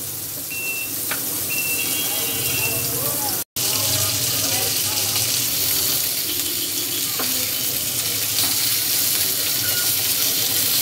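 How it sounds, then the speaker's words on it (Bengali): Fish sizzles in the same oil used to fry dried chillies, a constant close crackling hiss with a brief dropout near the start and occasional small clinks, with no talk over it. "শুকনা মরিচটা ভেজে নেওয়ার পর এখন আমি সেই একই তেলে মাছগুলো একটু লাল করে ভেজে নিব।"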